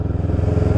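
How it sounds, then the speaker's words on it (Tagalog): A Honda CB650R or CFMOTO NK450 motorcycle engine runs loud and close, with a fast, even pulsing throb and a clattery edge, continuous throughout the brief moment and with no talking. "Ingay ng motor ni RB."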